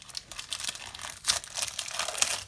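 A sticker kit is pulled from crinkly plastic packaging, giving close, quiet crackling and rustling in short bursts.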